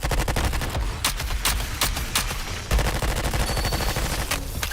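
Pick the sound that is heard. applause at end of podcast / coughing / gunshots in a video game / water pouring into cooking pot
gunshots in a video game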